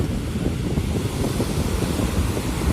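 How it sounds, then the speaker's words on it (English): Ocean surf at a busy Cancun beach, waves rolling in one after another in a steady, loud wash of broad rumbling noise with wind buffeting the microphone throughout. "And so here you can see the waves coming in one right after the other"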